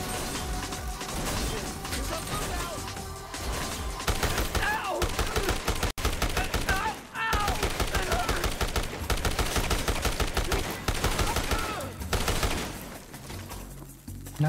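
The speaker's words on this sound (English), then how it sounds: "Just throwing pipe bombs here." Pipe bombs explode in a burst of rapid, loud blasts and crashes amid zombie-horde chaos in the Dead Rising video game, dense and continuous with a brief dropout midway.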